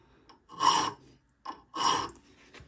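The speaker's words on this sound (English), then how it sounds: "Keep that file turning." Hand file rasping across the teeth of an Oregon chainsaw chain, two firm strokes each lasting about half a second, close up with no talk.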